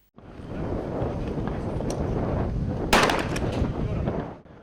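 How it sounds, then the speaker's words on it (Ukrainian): One sharp gunshot cracks partway through at a paratrooper and police shooting competition, over heavy wind rumble and outdoor noise, with faint echoing pops after it. "Віталія Бухонка на Дніпропетровщині десантники і поліцейські провели стрілецькі змагання."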